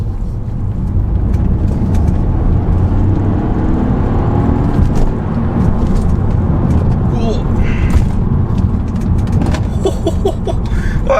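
A 1.5-litre BMW 1 Series accelerates hard through a village, its engine roar loud and steady throughout, with brief bumps and rattles near the end.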